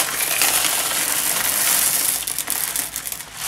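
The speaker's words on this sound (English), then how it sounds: "Pour some candy in there." Skittles candy is poured into a small zipper snack bag, making a dense, continuous rattling and crinkling rush close by. It keeps going for about three seconds, then becomes more uneven as the pour tapers off.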